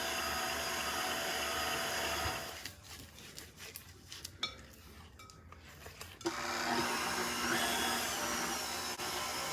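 An electric mixer whirs as it blends pure vanilla extract and orange zest into cranberry pecan oatmeal cookie dough. The motor drone runs loud at the start, drops away into quieter scraping and clatter, then resumes steadily.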